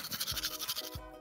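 A toothbrush scrubs teeth in quick, rhythmic back-and-forth strokes, a soft bristly scratching repeated several times in a row, quiet and close, with no voices.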